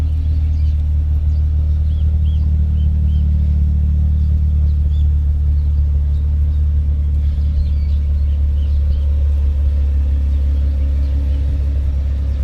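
A 1991 Nissan 300ZX twin turbo sits idling, its engine giving a steady, loud low rumble that holds even throughout without revving.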